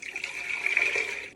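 Cold water is poured into a blender in a single brief, steady splashing stream that fills for about a second, close and clear with no talking.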